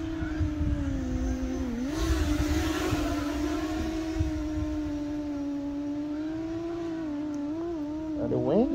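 A DIY X8 drone cruises in flight with a steady droning motor whine that shifts slightly in pitch, close and continuous with some wind, without talk.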